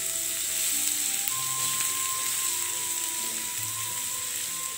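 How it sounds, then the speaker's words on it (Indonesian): Shallots and garlic sautéing in a hot pan, a steady close sizzle with occasional scraping stirs, no talking. "Tumis bawang merah dan bawang putih."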